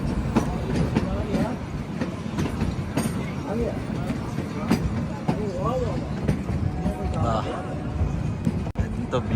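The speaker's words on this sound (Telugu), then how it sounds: "ఇది దర్శన్ ఎక్స్ప్రెస్, ఇది పక్కన ఉన్నది." Darshan Express train passing with steady rumbling and clickety-clack rolling along the rails, loud and continuous throughout, with a voice talking over it.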